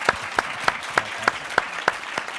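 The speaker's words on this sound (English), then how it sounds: "Let's give them all a round of applause" A rural entrepreneurship summit audience claps for its panelists, heard here as sharp, evenly spaced claps about every third of a second over a soft background of applause.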